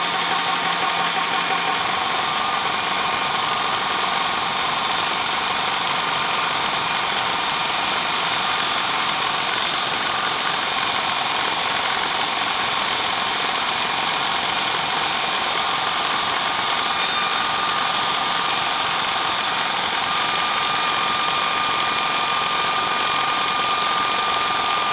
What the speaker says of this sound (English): Compressor, start.